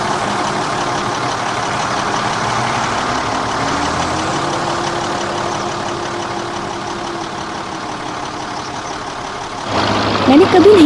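A tractor engine idles steadily with a low, even rumble and a faint rising whine, then grows louder near the end while voices speak.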